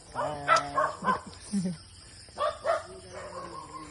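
Several short barks from a dog, spaced irregularly, with quieter gaps between them in an outdoor setting.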